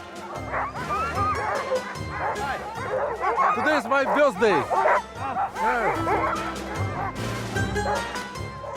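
Sled dogs of a team on the Arctic sea ice near the North Pole bark, yip and whine excitedly in a loud, dense chorus, with a person speaking briefly over the din.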